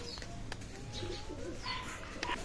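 Pigeons coo softly in a loft, low throaty calls in short bursts with a few faint chirps, quiet and slightly distant amid room noise.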